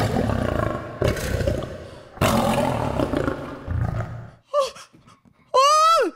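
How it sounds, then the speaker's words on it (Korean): Several loud lion roars in a children's prayer drama, broad rumbling bursts repeating over the first four seconds, followed by a few short high voiced exclamations near the end. "사자잖아!"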